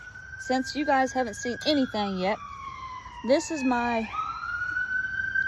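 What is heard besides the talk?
sirens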